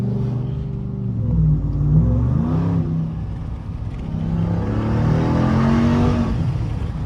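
A 2021 RAM TRX truck accelerates hard, its engine note climbing in pitch through a couple of surges, loud and close from inside the cab with no talking.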